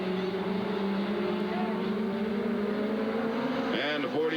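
Stock-class race cars running regular gas roar around Southern Oregon Speedway, their engines droning steadily at a middle distance as a commentator talks over them.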